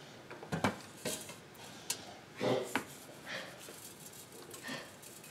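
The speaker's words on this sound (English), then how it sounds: "I have my basket. I'm just going to pick it up, and I'm going to flip it over with the previously salted side" Metal air fryer basket lifted and flipped over while making baked potatoes, giving a few scattered clanks and light rattles close by, with a quiet gap between handling noises.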